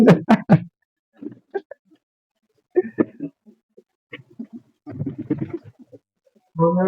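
Giribaz and Madras pigeons coo close by in short, throaty bursts separated by quiet pauses, with a few soft knocks mixed among the calls.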